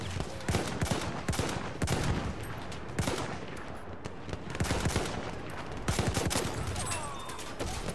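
Heavy gunfire rings out in a Battlefield 1 multiplayer Operations battle in a ballroom, repeated sharp shots and volleys in loud clusters, with scattered explosions and a crackling battlefield din.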